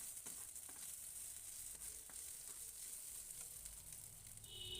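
Potatoes frying in an oil-filled pan while making poha, a steady close sizzle and crackle continuing throughout with a few light stirring scrapes.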